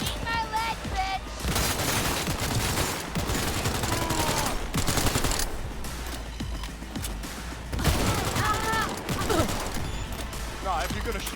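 Loud, sustained gunfire in Cyberpunk 2077, with repeated automatic bursts and heavy impacts under constant game noise and occasional voices.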